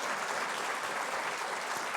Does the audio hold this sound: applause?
yes